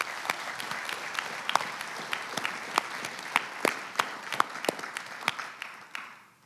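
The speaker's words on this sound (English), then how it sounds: "So I want to give everybody a round of applause in recognizing the Black legends that we're recognizing tonight." Audience clapping at the Black Legend Awards ceremony in Silicon Valley, scattered individual claps ringing out over a softer bed of applause, moderately distant in a hall and thinning out toward the end.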